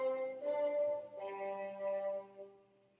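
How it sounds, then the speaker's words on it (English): Bassoons play the horn passage from Beethoven's Fifth Symphony, sustained tones moving through a short phrase at moderate volume before fading softly, with no voices over them. "he had the bassoons play it because it's now in a different key"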